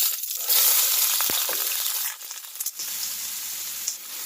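Poblano peppers drop into a hot pan of oil and burst into a loud, close hiss that softens into a steady sizzle, with a few clinks of a utensil against the pan.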